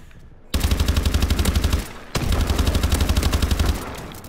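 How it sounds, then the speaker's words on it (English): Gunfire in the video game Call of Duty: Advanced Warfare comes as two loud, rapid automatic bursts of evenly spaced shots, separated by a brief pause. "Just a couple shots and they're down"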